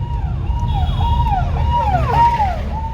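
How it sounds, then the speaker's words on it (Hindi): An ambulance siren wails through road traffic, loud and close, its rising and falling tone repeating over a steady low rumble of engines. "एम्बुलेंस आ रही क्या? हाँ साइड हो जाओ भाई फटाफट"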